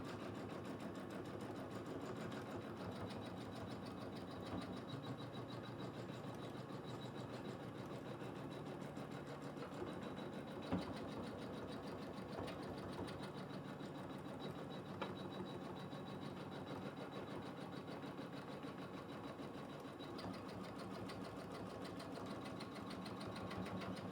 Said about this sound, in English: I've put my machine on slow so you can maneuver it a bit better.